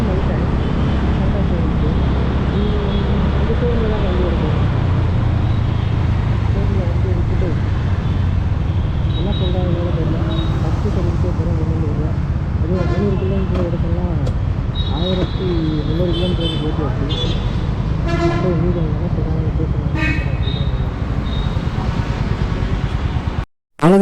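A Honda H'ness CB 350 motorcycle runs at top speed, a loud continuous engine drone with wind rush and shifting pitch, a voice talking over it now and then.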